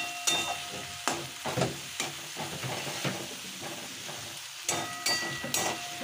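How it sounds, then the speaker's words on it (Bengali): Onion paste, chilli paste and ground cumin sizzle in a pan for a fish curry, with a steady frying hiss broken by repeated scraping stirs of a spatula, close and fairly loud. "এবার সেই মশলাটাকে দিয়ে দেওয়া হলো, সামান্য একটু মশলা, পেঁয়াজ বাটা আর লঙ্কা বাটা, জিরের গুঁড়ো"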